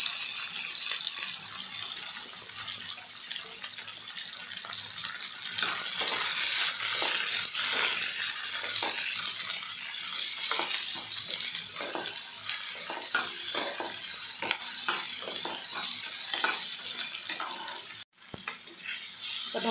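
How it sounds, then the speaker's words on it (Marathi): Vegetables for tomato rice sautéing in a pan, a steady close sizzle broken by repeated scraping strokes of a stirring spoon for about twenty seconds, with no talk. "आता भाज्या आपल्या आता परतून झालेल्या आहेत"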